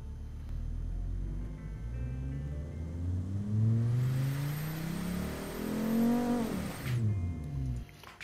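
A simulated car engine in the Automation game, tuned for an offroader build, revs steadily upward with rising whine and rumble, holds briefly near the top, then drops off sharply.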